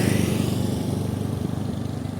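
A Hino 500 truck passes on the road close by, a pulsing diesel drone that grows and fades over a couple of seconds.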